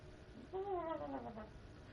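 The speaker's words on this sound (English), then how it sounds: "She meowed and shook her head really quick." A pet cat named Becky lets out a single clear, drawn-out meow with a falling pitch, close and moderately loud, with no talking around it.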